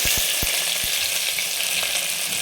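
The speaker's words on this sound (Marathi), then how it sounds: "नंतर जिरे टाकायचे आहेत आणि एक कांदा घेतलेला आहे. कांदा टाकते." Chopped onion hits hot oil with mustard seeds and cumin in a pan, setting off a loud, steady hiss of frying, with a few sharp knocks at the start and no one speaking.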